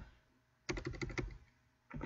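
Quiet, quick keyboard taps in a short burst of about eight keystrokes, a pause, then more typing begins.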